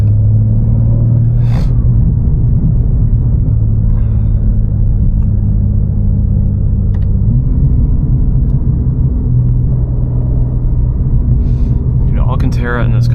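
BMW G87 M2 engine and exhaust while driving, a loud steady low rumble from inside the car that shifts pitch slightly midway, with someone talking over it.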